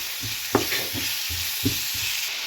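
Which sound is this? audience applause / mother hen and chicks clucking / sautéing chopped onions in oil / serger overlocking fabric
sautéing chopped onions in oil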